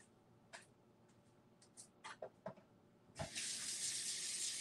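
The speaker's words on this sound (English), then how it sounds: "I'm going to go throw these in the sink because that just a hot mess happened in there." Gel printing plates clatter and knock a few times in a sink before a tap opens and water gushes steadily, close by and loud.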